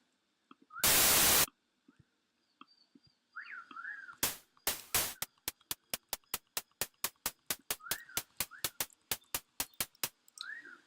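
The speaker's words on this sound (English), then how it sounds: "change the wave to white noise" Synthesized white-noise hi-hat hits made in Ableton's Operator, first a long noise burst, then a steady run of sharp, evenly spaced ticks speeding along, with faint synth chirps between.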